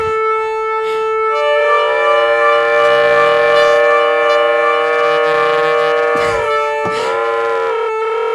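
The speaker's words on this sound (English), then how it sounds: "It's the craziest synth." Hydra synthesizer playing an abrasive, glitchy patch: sustained, bright stacked tones that bend and waver like a siren, loud and alone, broken by brief stuttering dropouts near the end.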